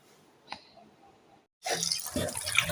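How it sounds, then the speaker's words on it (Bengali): Fish are rinsed under a running kitchen tap: after a near-silent moment with one faint knock, a loud, close rush of water gushes and splashes steadily to the end. "মাছগুলো ধুয়ে নিই"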